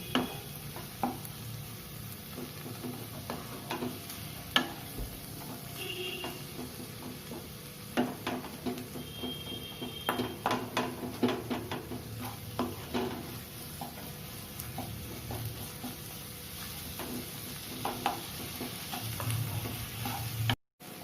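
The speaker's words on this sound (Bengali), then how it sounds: "এবার এটাকে ভালোভাবে কষে নেব।" Spice masala stir-fried in a pan for a Bengali cauliflower roast with no water added: steady sizzling throughout, broken by frequent close spatula scrapes and light clinks of utensil on pan, with no voices.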